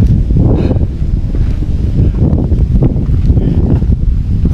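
Wind gusts roar steadily across the microphone on a hill trail at Bukit Keteri, loud and continuous with rustling.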